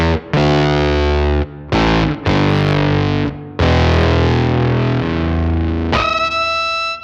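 Heavy electric guitar power chords through an EHX Ring Thing set up as an octave fuzz, played loud and close in several sustained, thick distorted blocks with short gaps, ending on a brighter ringing chord.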